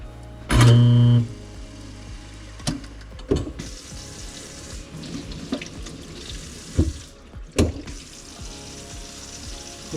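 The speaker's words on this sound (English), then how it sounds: "We're going to run some water," Tap water runs into a kitchen sink fitted with a newly replaced garbage disposal, a steady broadband rush broken by a few louder clunks and splashes, with a brief loud thump near the start.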